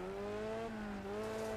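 An engine whines with rising and falling pitch as a car drives on gravel in the racing video game Next Car Game, with a constant gritty rumble under the motor, close and steady.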